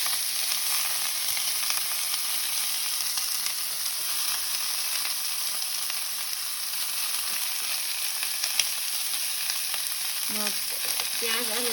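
Mixed vegetables with onion and garlic fry in a pan for a mixed veg khichdi, giving a steady, fairly quiet sizzle with a few brief stirring scrapes near the end.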